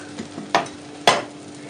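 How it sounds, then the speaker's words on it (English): Two sharp bursts of sizzling as dosa batter hits a hot, lightly oiled pan, each flaring loudly then fading into a low crackle, with no talking. "there's the sizzle that I like to hear"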